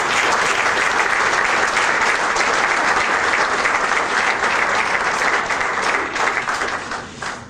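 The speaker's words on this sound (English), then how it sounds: "I would like you to give Doug a round of applause" A crowd at a tribute event gives sustained, loud applause, a dense even wall of hand clapping lasting several seconds before fading out near the end.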